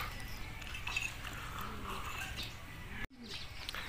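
Racing pigeons returning from the first lap of a 2021 race in Cainta, Rizal, heard outdoors as scattered soft coos and chirps over steady background noise, with a brief dropout near the end.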